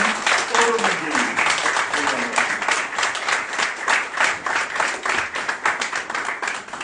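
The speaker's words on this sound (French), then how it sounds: "j'aimerais qu'on applaudisse très très fort Monsieur Kofi Olomide" Audience at a press conference for Koffi Olomide in France claps loudly and continuously, many hands with a slightly pulsing rhythm, and voices are audible over the applause.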